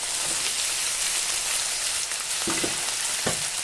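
Chopped chilli, onion and garlic with ginger paste, alongside chopped potato, fry in hot oil with a steady, dense sizzle throughout, close and fairly loud, with a few stirring scrapes near the end.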